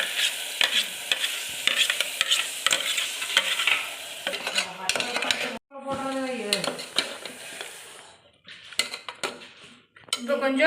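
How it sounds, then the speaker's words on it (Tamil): Ground paste poured into a pan of fried onions, a loud burst of sizzling and spluttering oil with clattering spoon-and-pan stirring, brief breaks between bursts. "இப்போ வந்து அரைச்ச விழுதை நம்ம ஊற்ற போகிறோம்."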